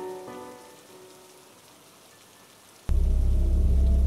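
Rain in an animated story, starting abruptly after a quiet stretch with fading tones, then a loud, dense, steady downpour hissing and pattering close by.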